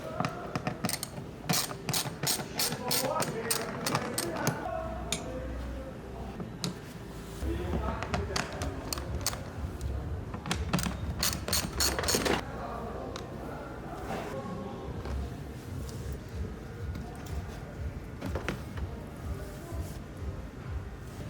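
A ratchet working loose the 8mm bolts on the upper microfilter housing of a BMW X1 E84 with an N20 four-cylinder, rapid clicking bursts with clanks of metal, close, while a voice talks over much of it.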